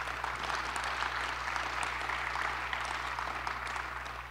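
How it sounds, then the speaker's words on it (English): Audience applause at a public forum on fighting hate speech, a steady wash of clapping from a crowd, moderately distant and even in level, over a low constant electrical hum. "I think you should give them a round of applause."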